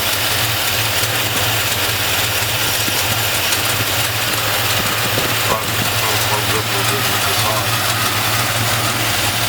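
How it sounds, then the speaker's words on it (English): A car engine idling with an exhaust leak, a loud, steady rumble with ticking and knocking underneath, close by, with voices heard over it. "it sounds like an exhaust leak"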